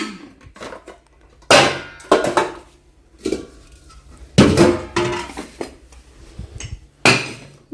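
Metal clanks and scrapes from a pressure cooker lid being handled, several sharp knocks spaced irregularly with quiet handling noise between, close by.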